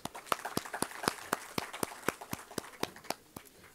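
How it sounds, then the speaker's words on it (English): Sparse applause after a lecture on Indian agriculture, heard as a few distinct hand claps in a fairly regular rhythm, quiet and close, with no crowd swell behind them. "I think you deserve a big round of applause"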